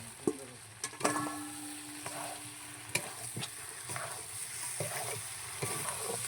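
Fried potatoes tipped into a home-style chicken curry and stirred produce a soft sizzle with sharp utensil clacks and scrapes at irregular intervals, close but fairly quiet, with no voices.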